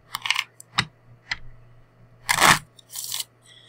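Playing cards for the Lord of the Rings card game are shuffled up close, in bursts of crisp riffling and soft taps with short pauses between.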